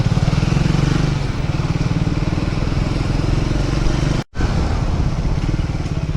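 A motorbike engine drones steadily while riding through traffic, a close, continuous low rumble with a brief cutout partway before it resumes.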